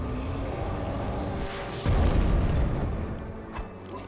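Airstrike explosions go off in American McGee's Alice, a dense rumbling barrage that swells into a heavy booming burst midway and then tails off, with no talking.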